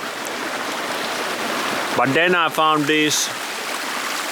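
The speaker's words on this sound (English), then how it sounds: "I didn't know there was this cool ass waterfall here" Waterfall in the bush pours in a steady broadband hiss and rush, continuous and fairly close, with someone talking briefly over it midway.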